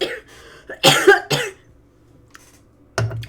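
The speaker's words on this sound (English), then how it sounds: "thought I was going to get through that one without coughing" A few harsh coughs close to the microphone, clustered together, followed by quiet and one more short cough.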